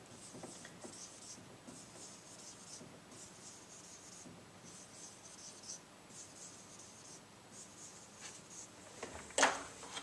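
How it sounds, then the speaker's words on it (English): A pen or pencil writes on paper in close, quiet scratching strokes that come in short repeated bursts, with a sharper tap or rub near the end. "I'm going to rewrite just the stem part"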